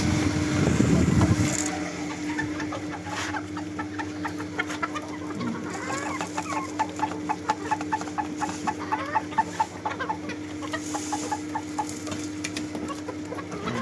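Desi hens eat from a poultry feed line, clucking steadily throughout, with a brief louder burst at the start and many quick, rhythmic pecking taps against the feeder, close by and with no talking.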